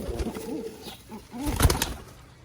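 White Bombay pigeons on a farm coo softly close by, several rolling, throaty calls spread across a short span with faint rustling between them.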